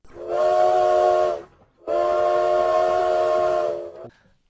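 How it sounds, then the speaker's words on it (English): A person gives a real big whistle in two long, loud, steady blasts with a brief gap between them. The tone is rich and reedy, close to a steam train whistle, and no one talks over it. "Real big whistle."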